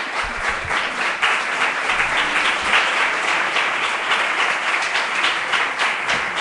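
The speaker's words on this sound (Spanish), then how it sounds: "pediros, tanto para la ponente como para vosotros mismos, unos aplausos a lo 15M para todos" A conference audience at the 2011 APDA congress claps loudly and continuously after a panel session. The dense, even applause carries on for several seconds without letting up.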